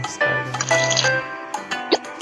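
Wet dripping and squishy plopping sounds of colored liquid poured in a color-matching video game, a few separate drops and pours with short pauses between, close and fairly quiet, with a faint musical tone underneath.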